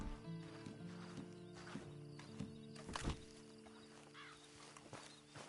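Horse sounds in Red Dead Redemption 2 Online, with clip-clopping hooves and a brief whinny over a low, steady musical drone, fairly quiet and a little distant.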